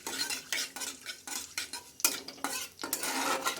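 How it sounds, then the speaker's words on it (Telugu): Black gram, mustard seeds and cumin frying in oil in a pan on high heat for sago khichdi, with steady sizzling and repeated spoon scrapes and stirring clatter close by. "మినప్పప్పు, ఆవాలు, జీలకర్ర, పోపు బ్రౌన్ కలర్ వచ్చేదాకా వేయించుకోవాలి."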